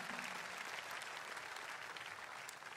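A church congregation at a SCOAN Sunday service claps together in a dense, sustained roar of applause that holds steady throughout with no talk over it.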